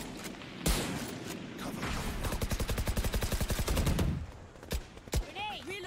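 Gunfire in the shooter game Valorant: a single loud shot, then a rapid automatic burst of evenly spaced rounds lasting about two seconds, followed by a few scattered shots and game effects, close and sharp.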